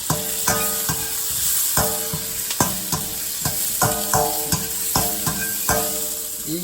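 Broccoli and onions stir-fried in a pan for chow mein, with a steady loud sizzle broken by regular sharp scrapes and clacks of the utensil tossing the vegetables.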